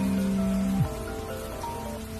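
Torrential rain downpour pounding steadily as broadband hiss, with a low steady tone that drops away partway through; no talking.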